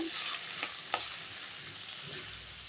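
A spoon stirs turmeric koi fish curry broth in a pan under a soft steady sizzle, with a couple of brief knocks against the pan.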